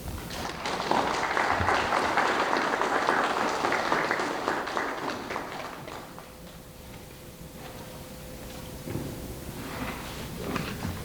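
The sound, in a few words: audience applause for the Chief Justice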